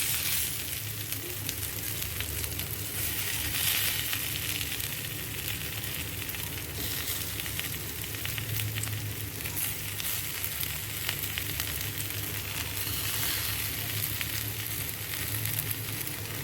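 Low-oil breakfast rolls fry in a pan with an even, continuous sizzle and faint crackle, close and steady throughout with no voices.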